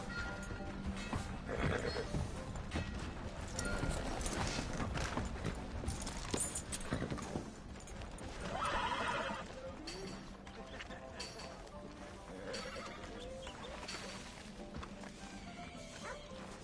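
A horse in Red Dead Redemption 2 gallops with pounding hoofbeats and gives scattered neighs amid a busy game scene. Characters talk over it and occasional crashes and thwacks break through.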